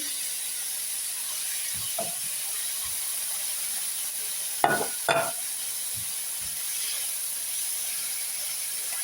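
Mushrooms frying in a pan with onion and garlic produce a steady hissing sizzle, broken midway by a pair of louder clattering stirs and a few soft knocks.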